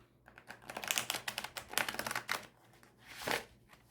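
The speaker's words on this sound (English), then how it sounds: "Let me show you one more riffle shuffle with this deck, the Hes deck." A Tarot de Marseille card deck, the Hes deck, riffle shuffled up close: a dense rapid flutter of flicking card edges building over a few seconds, then a brief bridge cascade, fairly quiet with no talk.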